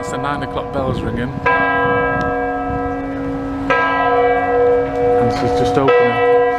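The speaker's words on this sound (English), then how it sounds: "That's the 9 o'clock bells ringing." Wawel Cathedral church bells ringing at nine o'clock, a sustained, resonant peal with fresh strikes every couple of seconds, heard on site with faint background activity.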